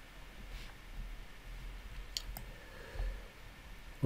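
A computer mouse gives a few faint, sparse clicks against quiet room tone, spaced irregularly with no talking.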